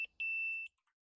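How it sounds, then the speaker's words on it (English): An electronic home alert chime signals that a bath is ready: two quick tones, then one steady ringing note held for about half a second, followed by a faint trailing blip in an otherwise quiet room. "I jumped at a ringing sound and looked at each other wide-eyed."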